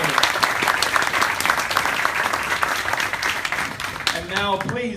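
Loud, sustained audience applause at a Lenovo Yoga Pro 3 tablet launch event in Australia, dense clapping filling the hall throughout, with a voice and some whoops emerging near the end.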